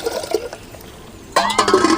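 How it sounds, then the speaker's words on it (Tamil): Water poured from a small vessel into a pan on a stove while cooking lentils, a sudden close gush of splashing liquid that starts partway through after a quiet stretch. "தண்ணி ஊற்றுங்கள"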